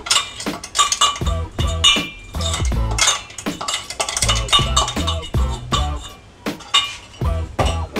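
A metal spoon stirs ground sesame seeds and jaggery in a pan for til gud ladoos, making rapid, rhythmic clinks and scrapes against the metal that go on steadily throughout.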